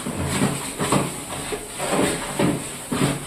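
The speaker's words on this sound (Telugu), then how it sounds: "ఇది వేసిన తర్వాత మంచిగా కలుపుకొని బాగా ఫ్రై అవ్వాలి ఈ పేస్ట్" Masala paste for potato kurma frying in a pan gives a steady close sizzle, swelling in short rhythmic bursts about every half second as it is stirred.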